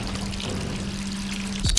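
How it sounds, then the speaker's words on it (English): Water being pumped in Resident Evil 3 Remake makes a steady pouring, trickling rush under a low hum, ending with a brief sharp mechanical clank. "First thing, we're just going to do is pump water."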